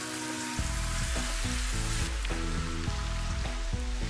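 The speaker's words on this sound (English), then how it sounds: "The oil is moderately heated. Now I'm adding in the ginger and garlic paste." Ginger garlic paste sizzling in moderately heated oil, a steady bright hiss that carries on beneath background music with a clear melody.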